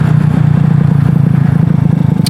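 A Venom X18 motorbike with 13-gram roller weights on a test ride, giving a loud, steady, low engine drone with a rapid pulsing throb and wind rumble, close up and without talk.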